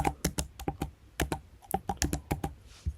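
Fingers type on a computer keyboard in quick, uneven bursts of crisp key clicks, close and clear, with brief pauses between clusters.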